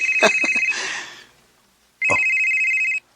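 A mobile phone ringtone signals an incoming call: a loud electronic ring plays close by, stops, and after a brief silence returns for about another second before cutting off.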